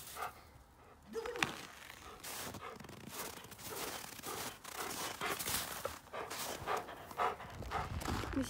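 A dog outdoors in a snowy winter village yard, heard through a string of scuffling, crunching bursts and short panting-like noises at moderate, close range.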